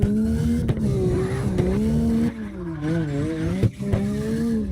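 An Acura NSX slides through a drift in CarX Drift Racing online on PlayStation, engine note wavering up and down with shifts and brief cuts, tire squeal mixed in, loud and continuous.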